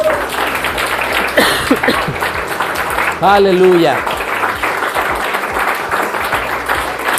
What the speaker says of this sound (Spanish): ¿Le quiere dar un aplauso al Señor?